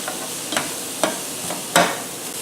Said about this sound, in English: We're going to let this cook for a couple of minutes